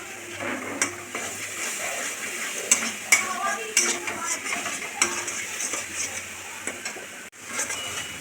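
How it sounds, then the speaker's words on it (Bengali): Potatoes sautéed with ginger and onion paste and a splash of water, stirred steadily in a pan for a Bengali potato dish, giving a continuous soft sizzle with scraping spatula strokes and occasional clinks throughout. "সামান্য একটু জল ঢেলে দিয়ে ভালো করে কষতে হবে।"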